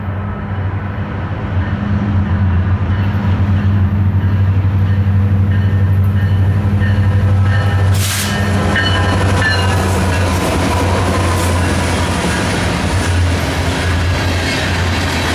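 A Norfolk Southern NS-880 train led by a pair of BNSF Ace locomotives rumbles past at close range, with a steady heavy drone, a brief horn-like burst partway through and rail clatter continuing throughout.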